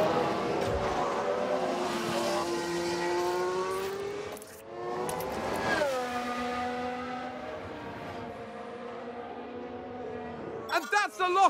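A race car in F1 Manager 2022 with a high, rising engine note and shifting gears as it passes, ending in a brief choppy burst of tyre squeal under braking, with a commentator talking over it.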